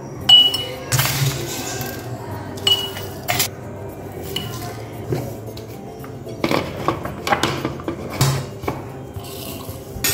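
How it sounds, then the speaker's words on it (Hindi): Ground biryani and karahi masala spices being tipped into a grinder jar, heard as a series of sharp clinks and clatters of metal and glass with soft pouring rustles between them, close and moderately loud. "अब इसे ग्राइंडर जार में डालते हैं"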